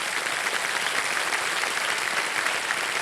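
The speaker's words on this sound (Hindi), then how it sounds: "ताली बज जाए इनके लिए।" Studio audience applause on the Indian quiz show Kaun Banega Crorepati, steady loud clapping from a large crowd, sustained evenly throughout with no talk over it.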